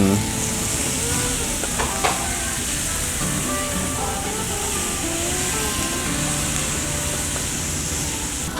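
Thin-sliced Korean BBQ pork belly sizzles on a tabletop grill with a steady, loud, crackling hiss that holds evenly throughout, with a few soft clinks.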